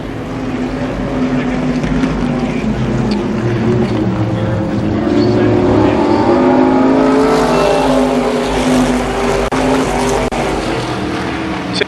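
IMCA modified race cars roar around Columbus Motor Speedway, a dense layered engine drone that swells as cars pass close, with a commentator talking over the racket.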